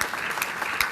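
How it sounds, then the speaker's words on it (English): Keynote audience at a conference clapping steadily and loudly, a dense wash of applause from a crowd filling the whole moment. "Now you may applaud."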